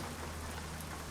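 Steady rain falling in the truck-driving game American Truck Simulator, a dense, even hiss of raindrops that holds at a constant close level for the whole moment with no other sounds.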